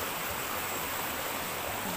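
Flood water flows steadily as a stream in a rural countryside setting, a continuous broadband rushing wash that stays even and moderately faint throughout, with no voices.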